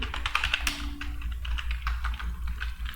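Rapid, irregular keystrokes clatter on a computer keyboard during data entry in accounting software, steady and close for the whole stretch while no one speaks.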